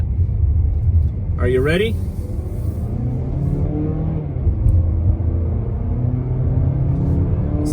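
A 2019 Mazda3 in sport mode accelerates along a highway, its steady engine and road rumble running throughout beneath a brief spoken question near the start.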